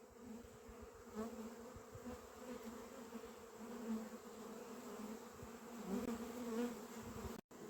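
Dense buzzing of a honeybee swarm taken down from a tree and carried to a hive, a continuous close hum with slight swells in pitch and loudness, no talking.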